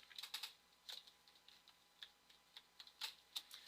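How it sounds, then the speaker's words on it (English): Quiet typing on a computer keyboard while naming a layer in Photoshop, a scattered run of light, crisp key clicks in small clusters, close and alone. "I'm just going to type in line art."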